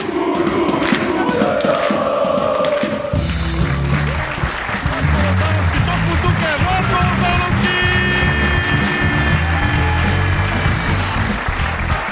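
A studio audience at a Macedonian talk show gives loud, sustained applause with cheering for a guest, the dense clapping running unbroken throughout over background music.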